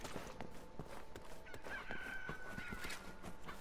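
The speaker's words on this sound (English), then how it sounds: "Chickens!" Chickens cluck and squawk in an outdoor market scene of the Resident Evil 6 video game, fairly faint under steady background ambience, with one drawn-out call in the middle.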